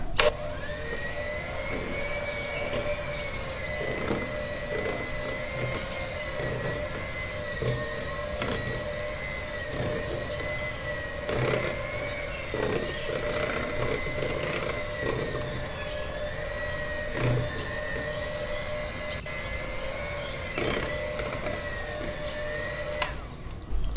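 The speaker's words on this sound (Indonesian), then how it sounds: "Lalu mixer dengan kecepatan rendah." An electric mixer running at low speed steadily blends cake batter, a continuous whirring motor hum lasting throughout with slight fluctuations and faint clicks, close and fairly loud with no talking.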